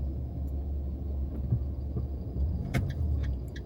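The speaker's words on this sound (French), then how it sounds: "Il y a trop de voitures." Cars idle and creep along in heavy traffic heard from inside a vehicle, a steady low engine rumble with faint clicks and a brief rattle, no talking.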